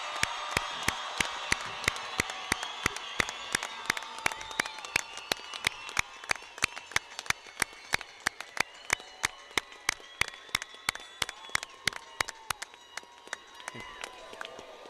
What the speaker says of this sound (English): could we give them one more round of applause